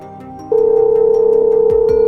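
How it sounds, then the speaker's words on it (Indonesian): A steady electronic ringback tone from a phone making a video call, starting abruptly and holding a single sustained pitch for about a second and a half, with faint background noise. "Mumpung mereka lagi di luar, aku bisa telepon Dani."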